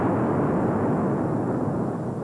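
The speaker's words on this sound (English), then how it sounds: "Sounded like an explosion." An explosion sound effect in the 1944 western film The Drifter comes as a sustained low, heavy rumbling roar that holds loud for about two seconds and then cuts off abruptly.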